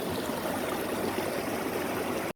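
A mountain river on the Uinta Highline Trail rushes steadily past a hiking crossing, a close, even roar of flowing water with no voices.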